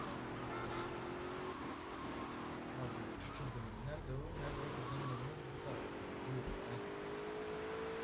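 A car drives in GTA Vice City, its engine a steady droning hum that shifts pitch slightly, heard under continuous talking.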